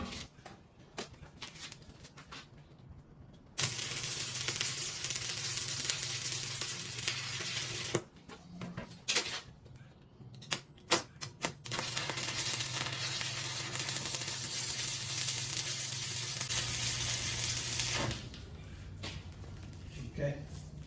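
A welding torch preheats a steel welding stub with a steady, rushing hiss and crackle, broken by short gaps where the flame cuts out before it resumes, fairly close and even.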